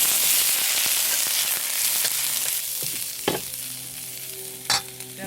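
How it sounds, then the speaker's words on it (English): Shiitake mushrooms and pepper stir-fry in oil with a loud, continuous sizzle, a spatula scraping and knocking the pan now and then, with a couple of sharper clatters near the end. "Then I'm going to add the mushroom in it, and the pepper."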